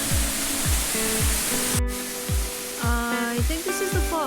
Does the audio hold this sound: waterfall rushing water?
yes